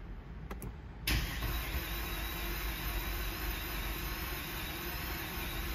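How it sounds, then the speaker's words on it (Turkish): A Mercedes ML450 V8 CDI diesel with heavy soot buildup, a couple of faint clicks, then the engine cranks and catches with a sudden roar and settles into a steady, loud, close idle, no talking. "Motor şu anda dönüyor tabii ki."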